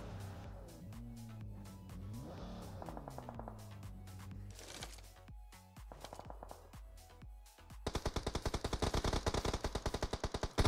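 Automatic gunfire from a PUBG Mobile tournament match rattles in rapid, evenly spaced bursts that grow loud and dense near the end, following quieter game sounds with tonal effects and scattered shots.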